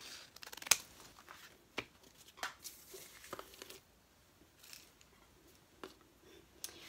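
A paper cutter slices through paper in a quiet room, producing a series of sharp, crisp cutting snips and rustles spaced irregularly over several seconds, close and fairly soft.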